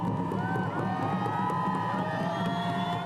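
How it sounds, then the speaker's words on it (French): A crowd cheers and whoops as snowmobilers arrive at the finish of a 17-day expedition. The voices blend into a dense, continuous roar of shouting and cheering. "Des acclamations ont accueilli les motoneigistes à la fin de leur périple presque surnaturel."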